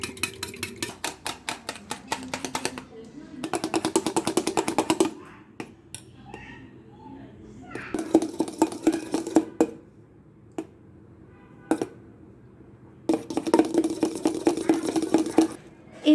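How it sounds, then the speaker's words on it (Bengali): A hand beater whipping egg whites in a bowl, its whirring metal rattle coming in several bursts of a few seconds each, separated by quieter pauses with faint clinks. "এবার একটি হ্যান্ড বিটারের সাহায্যে আমরা এই ডিমের সাদা অংশগুলো বিট করে নেব।"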